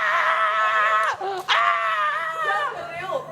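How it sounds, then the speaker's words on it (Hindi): A woman screams in a long, loud, wavering cry with a brief break midway, on the set of a reality show, with no other speech. "चीखे मार रही हूँ।"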